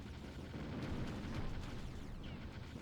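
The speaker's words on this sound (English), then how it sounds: "There, they're firing off the mortar." A mortar fires and explodes in the Ground Control strategy game, a dense rumbling barrage of low booms and bursts at moderate loudness, continuous through the stretch.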